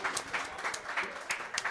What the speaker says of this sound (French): on peut applaudir pour Otsuna?